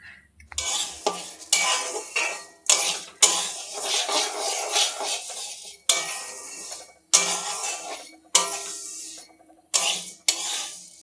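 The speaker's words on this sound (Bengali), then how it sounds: "খিচুড়ি বানানোর জন্য প্রথমেই ডালটাকে ভালো করে ভেজে নিতে হয়" Lentils for khichuri are stirred and dry-fried in a pan, heard as a series of close, scraping, rattling strokes of a spoon against metal, each a second or so long, separated by short silent pauses.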